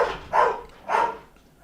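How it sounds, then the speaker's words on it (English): Two distinct dog barks spaced about half a second apart, moderately near, in a home during a live football watchalong, with no talking over them. "Again, guys, sorry about the dogs."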